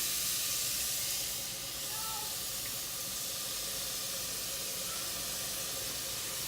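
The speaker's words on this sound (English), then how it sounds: "then you're going to add the coconut milk in" Coconut milk poured into a hot pan of briefly sautéed garlic for keto coconut cilantro lime cauliflower rice gives a steady, close hiss and sizzle that holds evenly throughout, with no talking.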